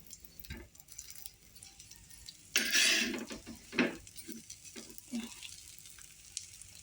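Food frying in a pan at home, a soft steady sizzle broken by a loud burst of crackle and some pan and utensil clatter, with a few sharper knocks later.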